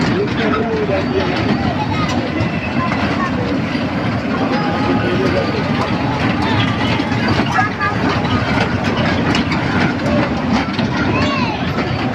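A small ride-on children's train at Karnaphuli Shishu Park in Chattogram rumbles along steadily with a clattering rhythm, surrounded by lively crowd chatter and children's voices throughout.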